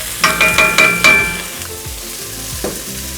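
Tomatoes hit a hot pan of caramelized ground beef and bell peppers for stuffed pepper soup, bursting into a loud close sizzle with a few quick stirring scrapes, then settling into a steady frying hiss.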